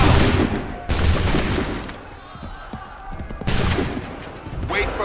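Massed musket volleys in Assassin's Creed III, two big crashing fusillades of overlapping shots with a quieter rumbling stretch between them and another burst rising at the end, loud and close.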